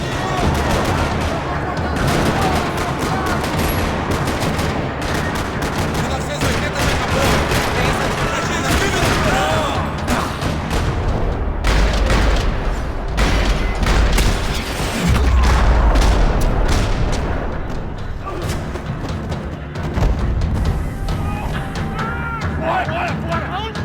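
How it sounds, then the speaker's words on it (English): Sustained gunfire rattles through a parking lot in the Max Payne 3 video game, dense overlapping shots and booms loud and continuous for the whole stretch, with heavier low thuds near the middle. "Another parking lot rattling with gunfire."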